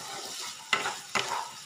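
Potatoes and cauliflower frying in a pan, a soft steady sizzle with two brisk spatula scrapes stirring the pieces close by.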